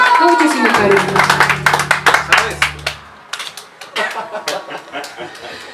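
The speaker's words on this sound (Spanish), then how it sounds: "el aplauso fuerte que se escucha" Loud, brisk applause and claps at a youth mariachi birthday performance, with dense sharp claps over a low hum at first, then thinning into separate, uneven claps.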